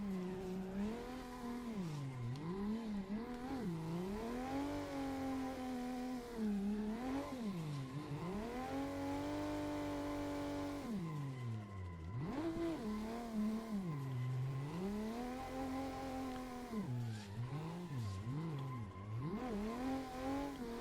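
Tires squeal in long sliding waves as a car drifts in a driving video game, the engine note rising and falling with each slide, loud and steady throughout with no talk.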